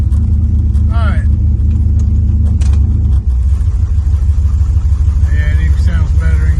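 A 1966 Plymouth engine idles in gear with a loud, steady, lumpy low rumble right up close, continuous throughout, while someone speaks briefly over it.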